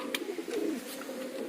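A nesting domestic pigeon sitting on eggs gives a soft, brief low coo, faint and close, over quiet background noise.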